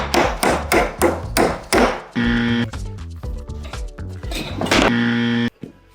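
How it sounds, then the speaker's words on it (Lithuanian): Nails are hammered into wood by hand while a table is built, with a run of loud, evenly spaced hammer blows close by, followed by ringing metallic strikes and clattering. "Jeigu nori kalti vinis į medį, reikia iš pradžių padaryti skylutes, kurios yra truputį siauresnės negu vinis, kurį kalsi."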